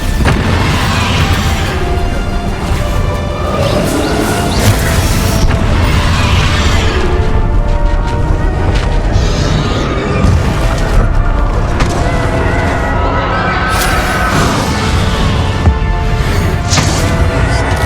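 Bombarda and Confringo spell explosions in the video game Hogwarts Legacy, repeated loud booming blasts with rumbling bursts layered over dense game music and effects throughout, no talking.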